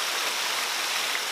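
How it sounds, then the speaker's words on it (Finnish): Rapids in the Korouoma gorge in Finland, with water rushing and bubbling in a steady, close, dense wash of sound and no breaks or voices. "tuo veden ääni on, se ei ole semmoinen pauhaava, ei missään tapauksessa raivoava, vaan enemmän semmoinen pulputtava suihkulähdetyyppinen"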